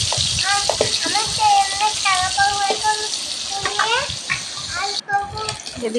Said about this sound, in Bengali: আমার সোনা বগর বগর বগর বগর করে যাচ্ছে মাছগুলো ভাজা হয়ে গেছে